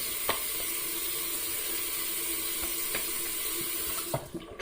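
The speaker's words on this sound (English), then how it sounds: "Let's do a quick little rinse off of the alum." Tap water runs steadily into a sink, rinsing alum off freshly shaved skin, close and continuous with a few light knocks and splashes toward the end.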